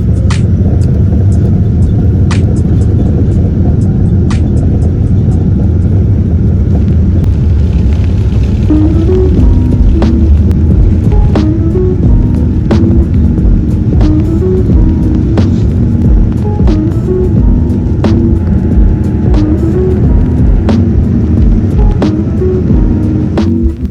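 Singapore Airlines jet taking off, heard from inside the economy cabin as a loud, continuous low engine roar and rumble, with rising tonal whine emerging midway and faint rattles throughout.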